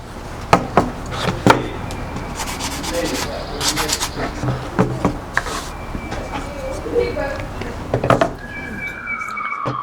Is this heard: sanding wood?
yes